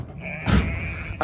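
A Suffolk Cross sheep at lambing time gives one short, close bleat, a brief wavering cry over a low background rumble, with a faint second sound at the very end.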